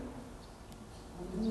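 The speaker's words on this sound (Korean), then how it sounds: "지금도 새소리 들리잖아요." Outside a Buddhist temple during a Sunday service, a bird calls faintly in the distance, a soft cooing note rising briefly over a low, steady room hum.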